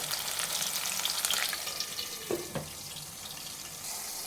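Onions frying in a pot for Telugu bagara rice with mutton curry, a steady broadband sizzle with a couple of soft scraping stirs partway through, no talking.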